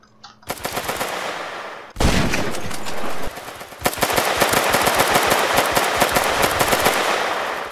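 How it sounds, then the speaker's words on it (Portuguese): Gunfire is traded in the GTA MTA RP game: rapid automatic bursts and sharp single shots crack loudly and close, building into a long, dense rattle of continuous fire. "Ah, tá trocando tiro, tá trocando tiro."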